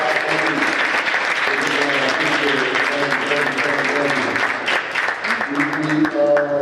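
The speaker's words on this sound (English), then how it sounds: "All right, let's give them a round of applause," Audience applause at an intergenerational community dialogue event, a steady, dense round of clapping filling the room from start to finish with a few voices mixed in.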